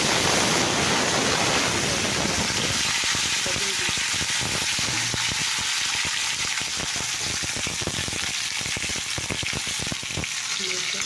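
Taro and potato hit hot oil with panch phoron, bursting into a loud, dense sizzle that stays busy and crackling and is broken now and then by stirring clatter.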